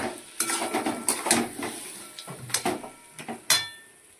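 A utensil stirs taro greens with a catla fish head in a pan, producing close scraping and clattering strokes in an uneven rhythm with a soft sizzle underneath.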